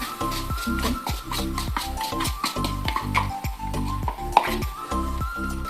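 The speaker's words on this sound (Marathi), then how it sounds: "गॅसची फ्लेम अगदी कमी करू आणि हलवून घेऊ इथे मी लाटण्याने हलवते आहे" Rhythmic scraping and knocking as rice flour is stirred into boiling water and milk in a pot with a rolling pin, about a dozen regular strokes with a faint sizzle underneath.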